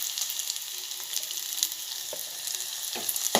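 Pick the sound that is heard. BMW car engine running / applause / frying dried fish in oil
frying dried fish in oil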